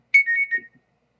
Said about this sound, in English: Sorry about that noise. It was an email.